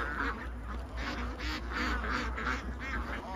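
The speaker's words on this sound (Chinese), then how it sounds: "那个鸭子又回来了" Domestic ducks quack faintly and repeatedly at a distance on a farm, a scattered, uneven run of calls over a steady background hum.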